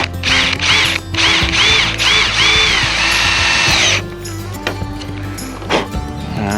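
A power drill drives a self-tapping screw into a truck tonneau cover, loud close revving whirs with a ratcheting clutch chatter for about four seconds, then quieter handling clatter.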